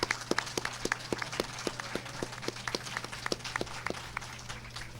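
A small audience at a 2019 student race relations forum applauds, giving a thin, scattered run of sharp individual claps at moderate distance over a steady low room hum.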